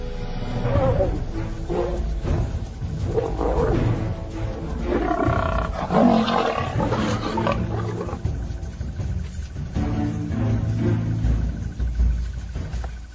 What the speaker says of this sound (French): Elle tombe nez à nez avec le premier lion.